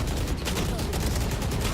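Sustained rapid gunfire fills a multiplayer shooter game match, a dense, steady clatter of overlapping shots with no pause across the short stretch.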